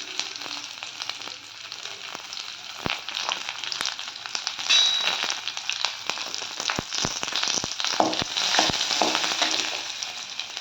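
Curry leaves and garlic frying in hot oil for a cabbage dish, giving a steady bright sizzle throughout with scattered crackles and pops, close and fairly loud, with no talking.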